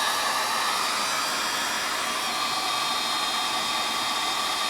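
A heat gun blows a steady, loud whooshing hiss while shrinking tubing over soldered fuel pump wires, unbroken for several seconds with no talking.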